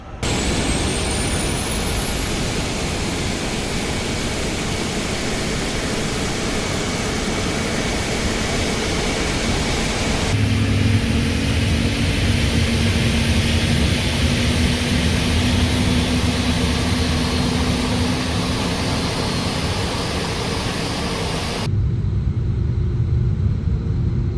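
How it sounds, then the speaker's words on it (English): Airbus A350-900 engine spooling up during start in Microsoft Flight Simulator, a steady loud turbine roar with a rising whine that shifts in tone partway through, then cuts to a quieter hum near the end. "Starting engine 2."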